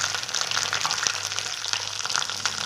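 Small brinjals frying in oil in a pan for a Tamil-style gravy give off a steady, close crackling sizzle that runs without a break from start to finish. No one speaks over it.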